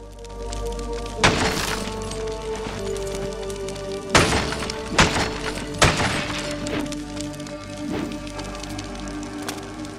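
Weapon blows striking training dummies in the Victor Vran action game on Xbox One, heard as a few sharp crunching impacts spaced across the clip over a steady ambient game backdrop.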